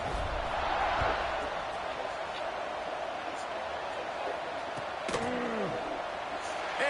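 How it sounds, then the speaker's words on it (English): Dense football stadium crowd buzz before a kickoff in Florida, a steady loud roar of many voices, with a brief knock near the five-second mark. "this crowd is buzzing after that last score"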